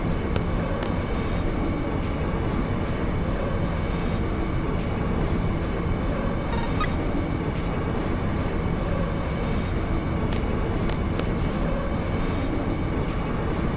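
A steady rumbling ride aboard a train in the PSone game Final Fantasy VIII, with rolling wagon noise holding constant throughout and a few faint metallic clicks and squeaks, no talking.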